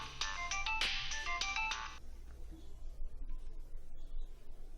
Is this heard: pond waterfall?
no